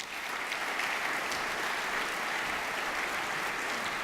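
An audience at the Slovenska gazela 2018 business awards ceremony applauds in a dense, steady wash of clapping that holds at an even level from start to finish.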